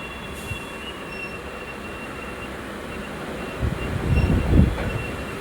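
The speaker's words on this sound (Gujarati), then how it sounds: "અને આ જો જાય માલગાડી જો જાય" A goods train rumbles past with a low steady roar, metal wheels squealing faintly, and heavier clanking toward the end as cars roll by.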